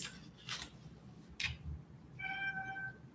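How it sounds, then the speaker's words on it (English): A house cat meowing indoors, a few short, fairly quiet calls mixed with light clicks and taps, with no talking. "There goes my cat again."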